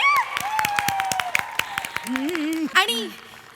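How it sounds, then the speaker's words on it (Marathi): An audience on a comedy show stage claps in scattered, sharp bursts. The applause plays under continuous spoken and sung talk, rising briefly near the end. "टाळ्या वाजवा माझ्यासाठी."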